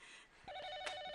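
A telephone rings with a brief, faint electronic trill over room noise, a single short burst of ringing in a quiet indoor setting.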